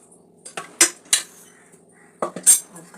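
Metal utensils clink against a pot while mutton pulao biryani is layered with rice, fried onions and coriander, giving a handful of sharp, bright knocks and scrapes in two small clusters, close and otherwise quiet.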